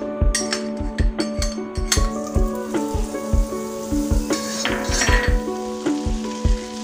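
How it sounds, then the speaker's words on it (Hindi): Butter sizzles in a hot kadhai while a utensil clinks and scrapes against the metal in a steady, repeated rhythm, close and clear with no speech. "अब मैं इसमें बटर डाल देती हूँ।"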